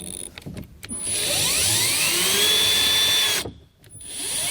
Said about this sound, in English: we're going to just remove that nut with our 10mm socket